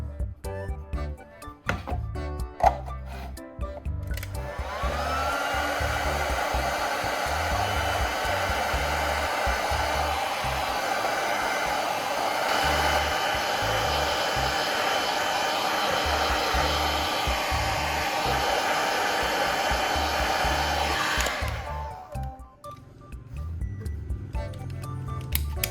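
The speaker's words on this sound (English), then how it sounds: "use a heat gun to shrink the bottom of the bottle, making it fit snugly around can" A heat gun blows steadily for about seventeen seconds while shrinking the bottom of a plastic bottle around a metal can, with a few clicks and handling knocks before it starts and after it stops.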